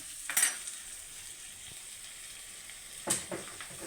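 Onions sauté with salt in a hot pan for crab curry, giving a low steady sizzle with two brief louder scrapes or stirs, close up and with no talking.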